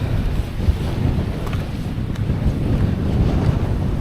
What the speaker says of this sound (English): It's getting windier as we get higher and colder.